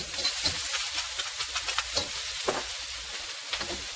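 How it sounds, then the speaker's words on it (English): Onions frying in a pan for gravy, a continuous soft sizzle punctuated by regular scraping strokes of a utensil roughly every half second, close and moderately quiet, with no voices. "So let's put some onions in there. I'm gonna make these onions for this gravy."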